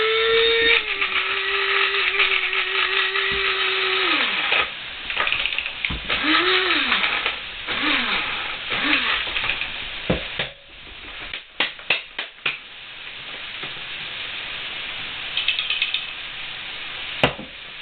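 Hand grinder cranks stored food for homemade ketchup in short ratcheting bursts, a steady grinding run giving way to uneven clicks and clanks with pauses between.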